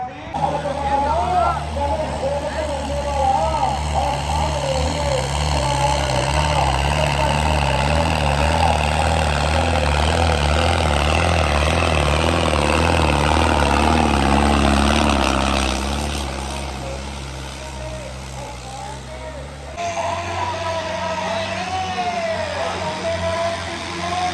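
A tractor engine rumbles steadily throughout at close range at a village trolley-pulling competition in Punjab, loud and continuous, with its pitch wavering and shifting mid-way; voices talk over it.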